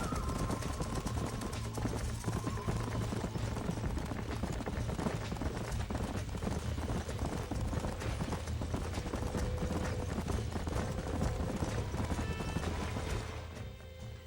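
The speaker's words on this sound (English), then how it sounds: "These are fine horses." Horses gallop in Red Dead Redemption, a steady dense clatter of hooves with occasional whinnies over continuous game ambience, fading slightly at the end.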